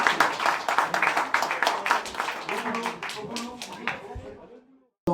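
Audience applause at an association anniversary gathering, a few dozen hands clapping in quick uneven bursts that thin out and fade to silence near the end, with faint murmuring underneath.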